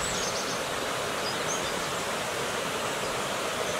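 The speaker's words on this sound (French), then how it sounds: "une rivière qu'on entend peut-être chuinter derrière moi, voilà l'Oyon" The Oyon, a small rural river flowing below a village, rushes steadily in a broad, even hiss of moving water, constant and moderately near with no voices over it.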